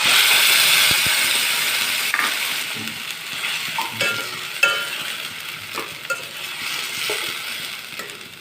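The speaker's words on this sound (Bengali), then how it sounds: "পেঁয়াজগুলো আমার প্রায় ভাজা হয়ে গেছে" Onions nearly done frying in a pan give a close, steady sizzle. Rattling, scraping stirs of the spatula sound over it at intervals, with no voices.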